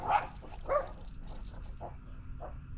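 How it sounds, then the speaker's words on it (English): Dogs barking at a mail carrier, with two sharp barks early on followed by fainter, more distant yaps over steady background noise and no talk. "Don't mind the dogs, they're barking at the mailman."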